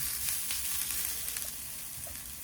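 Tomato puree sizzles in a pan in a narrowboat galley. The frying hiss is steady and moderately quiet, with faint crackles throughout and no voices.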